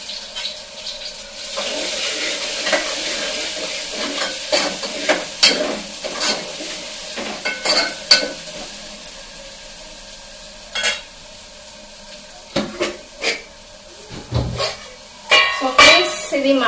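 Ginger garlic paste frying in a pan for mutton curry, with a steady sizzle and repeated clinks and scrapes of a spoon stirring, some water-like splashes near the end.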